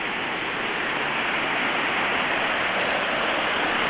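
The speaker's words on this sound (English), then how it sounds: "Check out the brook." A brook flowing steadily outdoors, a loud, dense, continuous rush of water close by with no pauses and no voices.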